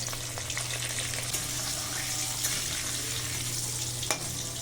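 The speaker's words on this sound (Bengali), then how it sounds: "এখানে আলু কেটে ধুয়ে নিয়েছি ভেজে নেব দিয়ে দিচ্ছি অল্প একটু হলুদ" Cut potatoes frying in a pan with turmeric, a steady close sizzle with faint crackles and occasional scraping or stirring sounds, no speech.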